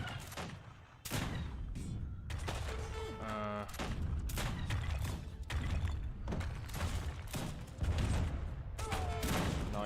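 Mortar and cannon fire in Age of Empires 3, a string of sharp, loud repeated blasts and thuds in uneven bursts, with occasional voices talking over the battle.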